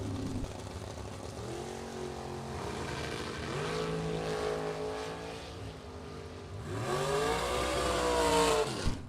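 A pickup truck on a drag racing run, engine revving hard through rising gear sweeps, dipping and then surging louder toward the end, with no voices.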